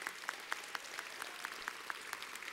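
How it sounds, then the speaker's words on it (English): Applause for the volunteers and students who hosted an APIAVote town hall: faint, fairly regular claps in a steady rhythm, sounding distant and thin, as if from a small part of the crowd. "Why don't we all give them a big round of applause?"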